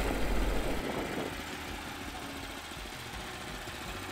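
VALCO VTL900U mini tiller engine just after a pull-start, a loud initial burst settling quickly into a steady, moderately quiet idle with a close mechanical chug.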